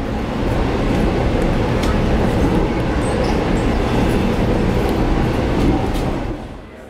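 Interior of a Long Island Rail Road C3 bi-level coach on the Islip to Montauk run, with a loud, steady rumble of wheels and carriage noise close around the listener, fading slightly at the very end, with no talking.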